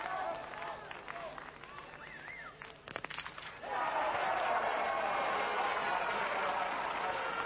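A crowd at a men's biathlon relay in Lahti, Finland, bursts into sustained cheering and applause partway through, rising loud and continuous after quieter ambient noise with a commentator's voice faintly present.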